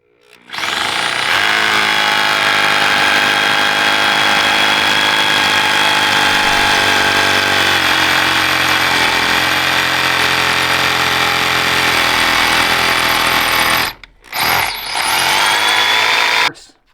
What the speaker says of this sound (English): You can see the Roto Hammer makes a heck of a lot cleaner hole versus when I was trying to drill